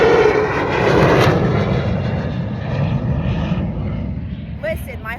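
Airplanes circling low overhead near a hotel, a loud, sustained engine roar that swells and slowly fades, heard close and dominating the scene.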